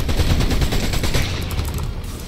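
Rapid gunfire bursts in the Fortnite video game, a dense loud clatter of shots in quick succession that fades slightly toward the end.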